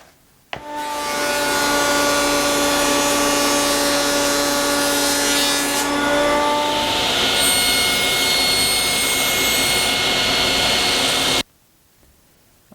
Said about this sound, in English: now I'm going to plane it to final thickness